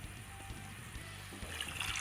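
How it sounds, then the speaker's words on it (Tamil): Tamarind water poured into sautéed sambar powder for a vegetable-free kuzhambu, a steady close liquid trickle and splash running continuously, with no voices. "இப்போது நம்ம ஊற வச்சு கரைச்சி வச்ச புளி தண்ணியை இது கூட சேர்த்துடலாம்"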